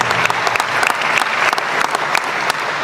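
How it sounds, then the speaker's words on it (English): Sustained applause from an audience at a Memorial Day ceremony honoring volunteers, dense steady clapping filling the space without a break. "So we give a round of applause"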